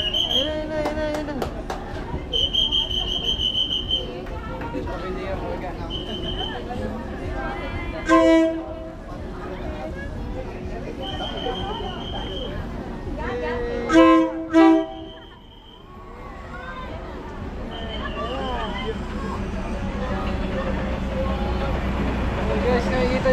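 A train pulling into a station in Bangkok: rumbling wheels and clattering wagons with a few short, loud horn blasts, heard from close by in a busy setting with people talking.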